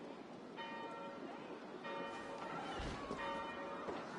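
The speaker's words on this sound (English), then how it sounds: "Do you not hear the bells?" Church bells ring in Assassin's Creed Valhalla, three faint, distant tolls spaced about 1.5 seconds apart, each with a long ringing tail, over steady outdoor ambience.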